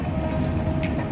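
A train rolls along a railway line below a high rocky hillside, a steady low rumble heard from a distance with no voices.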